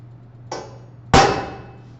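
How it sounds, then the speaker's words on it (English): A ball peen hammer strikes a center punch set on a steel I-beam: a light metallic tap followed by a sharper, louder ringing clang that decays quickly, close and with no talk. "I'm going to line up the center punch right on one of those crosses and give that a good tap."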